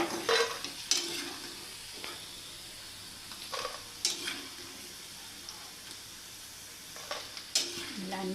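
Cauliflower 65 florets coated in crisp cornflour batter fry steadily in hot oil, a continuous close sizzle broken by several sharp clinks and stirs of a spoon against the pan.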